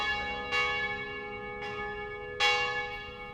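Monastery church bells call Trappist monks to prayer, three resonant strikes spaced about a second apart, each leaving a long, ringing, overlapping hum, heard from a moderate distance with no voices.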